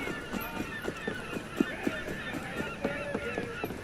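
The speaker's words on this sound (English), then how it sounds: "Oh, here are the seagulls." Seagulls calling by a dock in Assassin's Creed Unity, repeated short squawks and honks over a steady ambient wash of background noise, fairly close and moderately loud.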